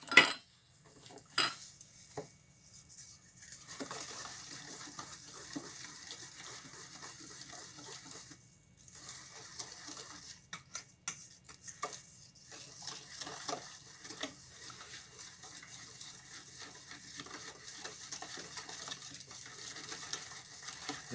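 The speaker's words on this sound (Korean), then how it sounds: "예, 지금 소금이 녹을 정도로 이렇게 잘 저어주죠." A spoon stirs salt into gochujang paste in a pot, scraping and clinking steadily at close range for the whole stretch. No one speaks over it.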